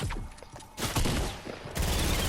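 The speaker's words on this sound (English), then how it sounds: "had been using his pulse rifle in order to deal the damage, but then he switched to an SMG of some sort" Pulse rifle gunfire in Fortnite, dense rapid bursts of shots crackling through the gameplay, with a brief lull before louder volleys resume near the end.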